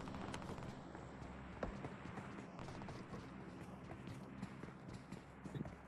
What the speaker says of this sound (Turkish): Ayak sesi var benim burada.